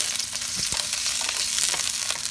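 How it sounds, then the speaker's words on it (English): Pork belly frying in its own rendered fat in a pan for banana blossom kilawin, a loud, close, continuous sizzle and crackle with scattered pops and no talking. "you're gonna let the pork belly to release its own oil"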